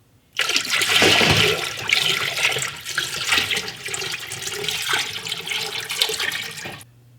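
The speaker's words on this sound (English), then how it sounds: "I'm going to use a pot to finish filling the water bath canner" Water pours steadily into a pot for a water bath canner, a rushing, splashing stream that gurgles and thins toward the end before stopping.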